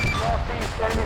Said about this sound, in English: High command, there's fireworks going off.